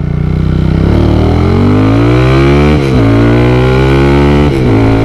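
A loud, modified VF3i motorcycle engine revs and climbs in pitch, dips briefly, then surges again, with steady wind rush throughout.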